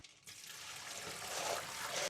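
Water splashes and trickles steadily as it is poured out of a basin of washed cockles, a continuous close liquid rush that swells slightly toward the end.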